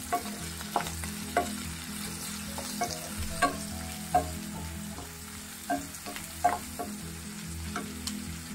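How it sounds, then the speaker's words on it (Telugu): Capsicum frying in oil with a little salt in a light deep fry, giving a steady close sizzle broken by occasional clinks and scrapes of stirring. "లైట్గా డీప్ ఫ్రై చేసుకున్నాను."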